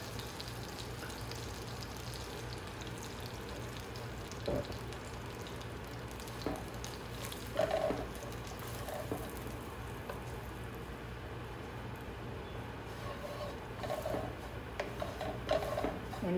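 Whole and dry spices frying in hot oil in a pan for dum aloo, a steady soft sizzle and crackle running throughout, with a few brief clinks and stirring taps near the pan.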